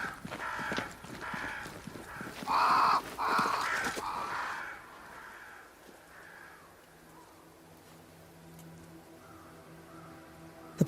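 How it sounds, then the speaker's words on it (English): Crows caw several times in the video game Banishers: Ghosts of New Eden, loud harsh calls in the first few seconds near a great tree, then fading into a quiet ambient backdrop. "Crows. They flock to that great tree up there."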